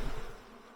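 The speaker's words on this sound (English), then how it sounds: "now the bees are on me" Honeybees buzz loudly and close by as bee packages are installed into a hive, a dense, continuous drone with no speech over it.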